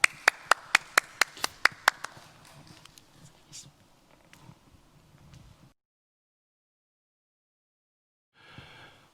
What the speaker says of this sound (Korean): 각자 가정에 계시지만 힘찬 박수로 환영해 주시기를 바랍니다.